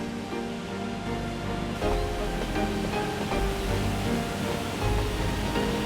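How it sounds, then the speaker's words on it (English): A waterfall fed by rain near a river village in Shenmue II roars as a steady, dense wash of water noise, continuous and fairly loud throughout with no talk. "That rain made this waterfall."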